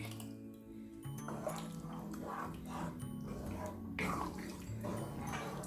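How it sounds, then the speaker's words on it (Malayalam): Water pours and trickles into a pot of drumstick sambar with soft splashing, over a steady low hum in the room. "അതുകൊണ്ട് ഞാൻ കുറച്ചുകൂടെ വെള്ളം ഒഴിക്കുന്നുണ്ട്"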